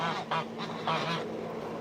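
Seagulls call in a run of harsh, honking squawks, fairly close and loud, coming in repeated bursts over a steady outdoor background.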